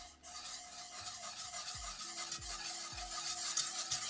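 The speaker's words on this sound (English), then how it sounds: "Keep stirring." A spoon scraping and rubbing around the inside of a pot of homemade secret sauce with a spice mixed in, a steady close stirring rasp with soft repeated knocks at a slow, even rhythm.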